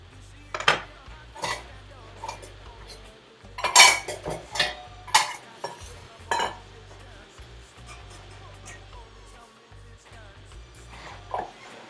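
A knife chops pizza toppings on a cutting board, giving a string of sharp, close taps and clinks in irregular bursts with brief pauses between, with no talking.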